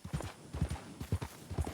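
A horse's hooves clip-clop in Red Dead Redemption II, a clear, close rhythm of paired hoofbeats repeating about every half second as the horse trots in circles.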